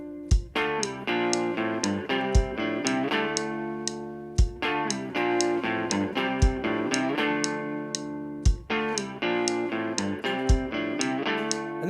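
Music played with added distortion, a driven, buzzing tone holding chords under steady rhythmic hits that recur through a repeating phrase, loud and up close with no talking.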